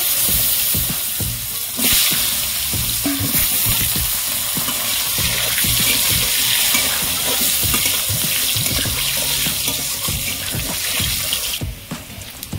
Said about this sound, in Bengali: ওই মাছ ভাজার তেলের মধ্যে আমি আলুগুলো ভেজে নেব।